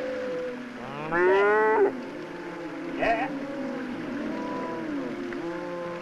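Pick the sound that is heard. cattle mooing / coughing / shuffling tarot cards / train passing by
cattle mooing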